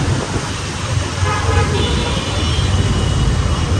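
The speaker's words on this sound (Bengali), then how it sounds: "প্রচণ্ড জ্যাম আজকে, অবস্থা খুবই ভয়াবহ" Dense, jammed Dhaka traffic on roads wet from overnight rain makes a thick, continuous roar of engines and tyres, cut by short horn toots, with faint voices mixed in.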